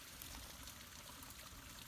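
Very faint, steady rushing and trickling of a brook formed from two streams, running into a sinkhole and going underground, a soft continuous wash with no voices.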